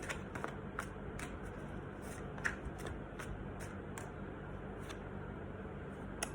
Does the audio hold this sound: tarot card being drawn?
yes